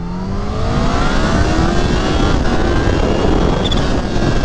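A Kawasaki Ninja H2 supercharged motorcycle roars loudly and continuously under hard acceleration, the engine pitch climbing through the gears amid heavy wind rush.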